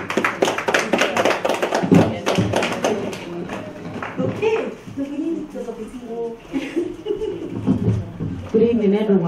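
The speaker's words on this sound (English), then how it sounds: "So let's give her a round of applause." An audience at a migrant women's summit in a hotel function room claps steadily for a few seconds, and the applause then tapers off under a woman's speech.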